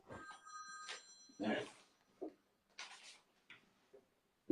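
Several telephones ring at once with bright electronic tones, loud at first and then fading, while people talk over and between the rings.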